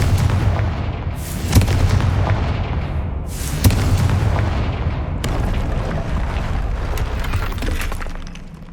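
A Confringo blasting spell goes off in the Hogwarts Legacy video game, with repeated loud booming blasts and crackling debris over a dense rumbling background, several sharp impacts spaced a couple of seconds apart.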